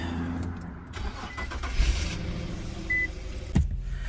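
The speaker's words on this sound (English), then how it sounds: "what I'm gonna do now is go start the car and see if the fans turn on." An Infiniti Q50 sedan's engine cranks and catches in a home garage, a short starter whir followed by a steady low idle, with a couple of brief clunks.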